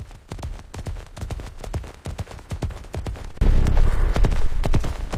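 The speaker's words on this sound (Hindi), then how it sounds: "हमारा घोड़ा निकल जाता है।" Horse hooves gallop across the Chambal countryside in a rapid, driving rhythm of close, loud beats, with a heavy rumble of noise swelling in behind them for the last couple of seconds.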